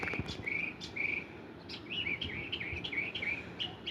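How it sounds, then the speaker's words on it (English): Songbirds chirp and whistle outdoors on a fine day, repeated short phrases at moderate distance over a soft, steady background with faint insect buzz. "The birds are talking."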